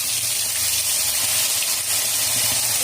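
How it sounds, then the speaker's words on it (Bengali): A paste of ginger, onion, garlic and tomato hits hot oil in a kadai, giving a loud, continuous, even hiss of frying that holds steady throughout without talk. "সেই পেস্টটা এবার এই কড়াতে তেলের মধ্যে দিয়ে দেব"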